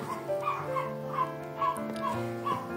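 Several neighbourhood dogs bark and yip in repeated bursts at mid distance, roused by a loose neighbour's dog, with whining tones threaded between the regular barks.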